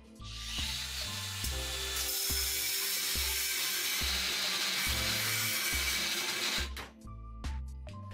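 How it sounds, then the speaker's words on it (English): A cordless brushless 125mm angle grinder fitted with a 2mm cutting disc, its high whine running almost continuously with a harsh, gritty cutting tone, dipping briefly near the end before the motor spins back up. "I put 2mm cutting disc on it so the force will be bigger. Then I try to cut and stop the grinder."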